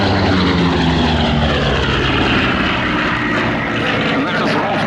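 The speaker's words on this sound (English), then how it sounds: "But here, running in from the left, is the Bearcat, the last of our naval trio." A Grumpy Bearcat-style naval piston fighter, the Grumman Bearcat, runs in low past the crowd with a loud, steady propeller-engine drone and harmonic whine, swelling slightly as it passes while a commentator talks over it.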